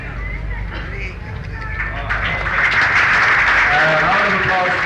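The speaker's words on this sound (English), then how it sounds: "Round of applause, ladies and gentlemen." Audience applause at the 1990 launch of the Lehren film magazine, a steady crowd clapping that grows louder and denser halfway through, with chatter mixed in.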